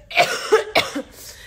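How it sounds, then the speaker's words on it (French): A few harsh coughs in quick succession, close by, followed by a quieter trailing breath. "J'arrive pas à finir une phrase sans tousser."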